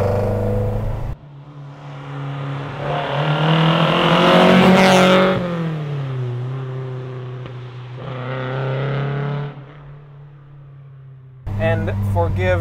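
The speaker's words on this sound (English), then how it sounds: "It's kind of noisy because it has 45mm Delortos on it." A rally car engine with 45mm Dellorto carburetors revs hard and loud, rising and falling through several throttle blips, with a raspy carburetor intake roar that cuts off abruptly.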